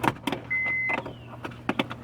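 A car window is cranked by hand in a series of short, close squeaks and clunks with a brief thin whine in the middle, and no talking.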